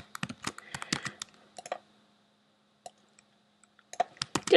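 Clattering keystrokes on a computer keyboard as a password is entered, coming in quick bursts at the start and end with a quiet pause of scattered single taps between.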